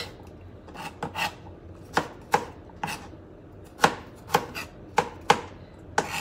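Knife chopping food on a board during home cooking, about a dozen sharp, close chops in an uneven rhythm with short pauses between them, no talking.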